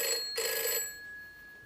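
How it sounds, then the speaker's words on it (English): A telephone bell rings in two short bursts separated by a tiny gap, fairly quiet and heard alone in a room before fading. "I can't stand that phone ringing."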